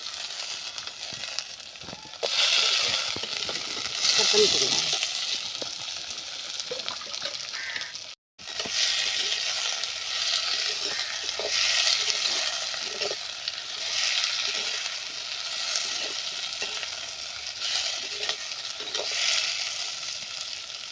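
Small cut potato pieces fry in hot oil in a pan for a Tamil-style potato kurma, giving a loud, steady sizzle with scraping stirs and a brief break partway through.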